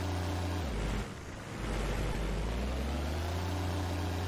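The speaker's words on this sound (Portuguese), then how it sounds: "Mas esse carro faz barulho, hein?" Car engine in the survival video game Xera Survival gives a steady, loud low drone with harmonic layers that dips briefly and then returns, running throughout with no talk over it.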